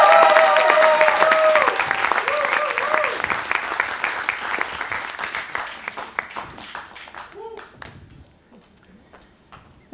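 Audience applause at a startup demo day, loud and dense at first, then thinning into scattered claps by the end while a voice talks over the start.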